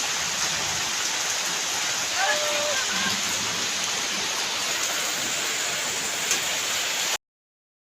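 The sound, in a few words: rain falling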